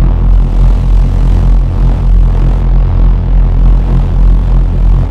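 Reese bass synth from Serum with extra noise layered in: a loud, dense, roaring low drone with hissy upper texture and a slow pulsing swell, sustained alone for the whole stretch.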